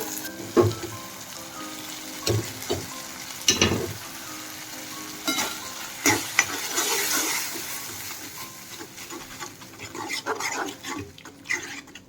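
Dal dropped into a hot oil tempering hisses and sizzles through a home kitchen, broken by sharp spoon knocks and stirring clatters, with some background household noise.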